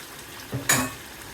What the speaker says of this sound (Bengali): তো মুরগি কষানো হয়ে গিয়েছে, এখন আমি আলুগুলো দিয়ে দিচ্ছি।